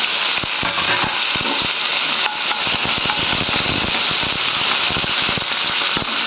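Onion, curry leaves and dried chilies frying in hot oil, a steady loud sizzle with crackling pops throughout, close and continuous, no talk.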